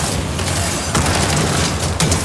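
Bursts of gunfire from another player in a Fortnite match, dense and continuous, with sharper shots standing out near the middle and end of a short stretch.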